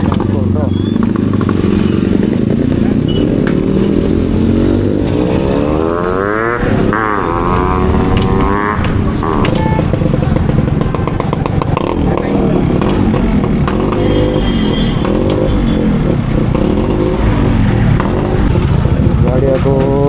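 Several Yamaha RX motorcycles ride together in a group toward a toll, their engines droning loudly and steadily throughout, with revving swells and shifting pitch as the bikes accelerate near the microphone.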